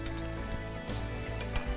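Onion hits a hot Tefal frying pan and sizzles in a steady, dense crackle, close and continuous, with a few brief scraping stirs.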